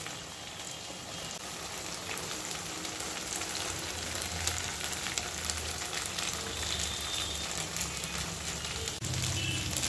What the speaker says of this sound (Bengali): একটু ফ্লেমটা বাড়িয়ে দেবেন, দিয়ে একটুখানি বেশ ভাজা ভাজা করে এটাকে নাড়তে হবে 2-3 মিনিটের মতো